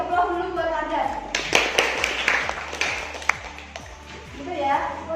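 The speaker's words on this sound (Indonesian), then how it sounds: "Jadi aplaus dulu buat Ardan." A class applauds a student named Ardan with a short burst of scattered clapping, while people talk over and around it.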